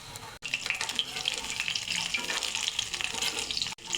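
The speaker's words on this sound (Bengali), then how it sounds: "পনিরের স্টিকগুলো আমি একটা একটা করে ব্যাটারে চুবিয়ে নেব, তারপর তেলে ছেড়ে দেব" Batter-dipped paneer sticks frying in hot oil for paneer shashlik, a steady, dense crackling sizzle that holds loud and continuous throughout, with two brief dropouts.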